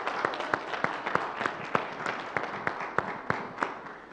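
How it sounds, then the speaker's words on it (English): A church congregation clapping hands together in a steady, rhythmic beat during a Pentecostal service, the claps evenly spaced and moderately loud with room echo and faint voices beneath. "let's Okay. give the Lord a hand clap"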